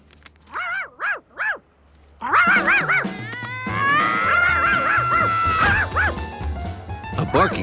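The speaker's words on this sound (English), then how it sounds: "A barking Charky was even worse than a puddle." A cartoon dog barks three times in quick succession, then a dense mix of music, crashes and animated voices takes over.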